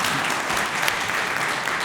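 An audience at a panel discussion on children and technology breaks into steady, even applause, a dense field of many hands clapping at close-to-moderate distance with no talk over it.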